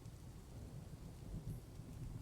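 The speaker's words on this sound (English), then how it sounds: "can hear the thunder and the rain" Steady rain hiss with low rumbling thunder swells, part of the stormy weather ambience in the game Dwarf Fortress, continuous and moderately loud with no talking.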